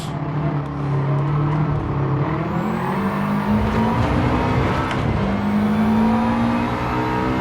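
A Gran Turismo 7 race car engine roars continuously, its pitch climbing and shifting as it revs through gears, loud and steady throughout with a faint high whine above.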